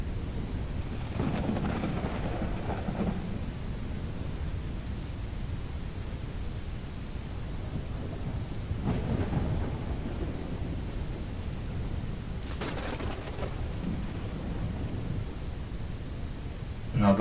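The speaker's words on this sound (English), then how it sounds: "Never stops freaking raining." Continuous steady rain with several low rumbles of thunder rolling in and out, no voices, in the video game Ranch Sim.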